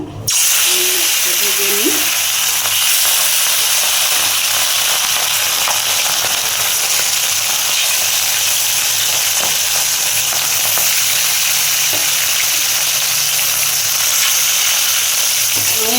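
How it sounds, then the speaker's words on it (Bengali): Fresh rohu fish pieces frying in hot oil, a loud, continuous close-up sizzle that stays steady throughout, with a brief voice near the start. "এটা আমি ভাজাতে বসিয়ে দিচ্ছি তেল গরম হয়ে গেছে"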